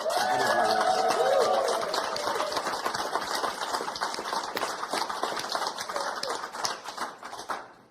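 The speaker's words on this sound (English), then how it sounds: "with one final round of applause, please, for all of those people" An awards-ceremony audience gives a round of applause, with dense clapping that starts full and loud, mixed with a voice early on, then thins and fades out by the end.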